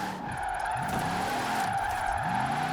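A trophy truck drifts in Forza Horizon 4, its tires skidding and squealing continuously over a steady engine drone, loud and unbroken with no talk.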